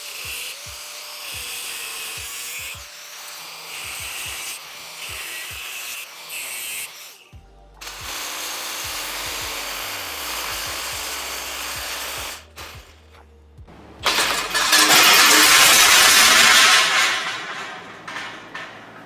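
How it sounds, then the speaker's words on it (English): Angle grinder with a cutoff wheel scoring a metal gate: a whining motor runs in bursts with pauses, then a loud, harsh, sustained grinding rasp near the end, close and alone. "I'm gonna use a cutoff wheel just to give myself a score zone"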